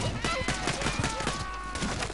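Gunfire in Borderlands 2, shots aimed at the player, comes as a dense, continuous crackle of overlapping reports under game music and chatter, with a voice speaking throughout.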